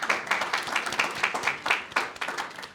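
An audience at a medical college continuing medical education event applauds, a moderate, steady patter of many hands clapping with faint voices underneath.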